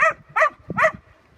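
A wolfhound puppy gives three short, close barking yelps in quick succession, evenly spaced, the last followed by a faint whimper, then quiet.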